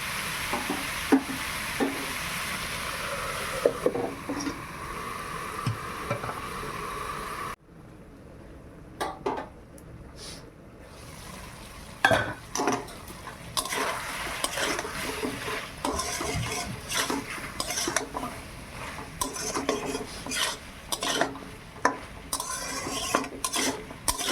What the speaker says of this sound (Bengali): এখন 5 মিনিট ভালো করে এরকম নেড়ে ভেজে নেব